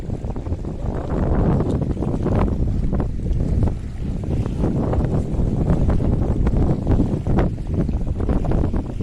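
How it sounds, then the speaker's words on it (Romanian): Wind blows hard and continuously on a ferry, buffeting the microphone with a loud, rumbling rush throughout. "Bate vântul."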